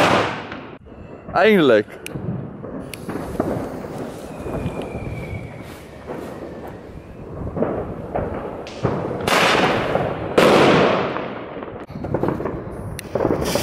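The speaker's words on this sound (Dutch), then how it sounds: "Duitse kanonslagen, toch nog knallers uit Duitsland." German cannon-salute firecrackers going off at a New Year's Eve street scene in Delft, several loud sharp bangs with echoing tails and a whistling rocket, amid people talking and shouting.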